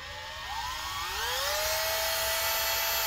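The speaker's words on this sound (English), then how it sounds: "now we're just going to drill a hole through the other hole to make it bigger" An electric drill bores through the plastic casing of a Dell Inspiron 15 3501 laptop, a steady high whine that climbs in pitch as the bit spins up, with no talking.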